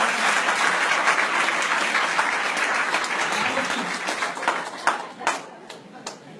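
A church congregation bursts into a wide wash of sustained applause that slowly thins out into a few scattered, sharper hand claps at the end.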